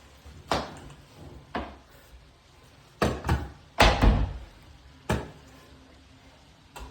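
A nail gun fires 18-gauge, 1.5-inch nails into door casing, giving about seven or eight sharp, close thumps at irregular intervals, with two shots in quick succession near the middle.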